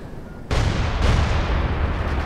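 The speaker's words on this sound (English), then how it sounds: "Artillery from the base." Artillery fire from a base in a World War I–style real-time strategy game: two heavy booming blasts about half a second apart, the second landing on top of the first's long rumbling roll, loud and close with no voices.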